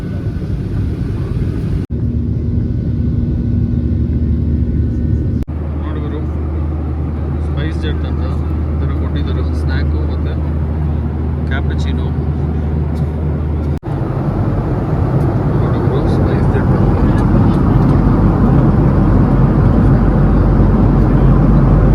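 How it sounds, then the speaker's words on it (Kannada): Cabin noise of a passenger airplane on its takeoff run, a loud steady engine roar and rumble that builds and shifts in stages, heard from inside the aircraft with no talk. "ಫುಲ್ ಫ್ಲೈಟ್ ಟೇಕ್ ಆಫ್ ತಗೊತಾ ಇದೆ ಗುರು."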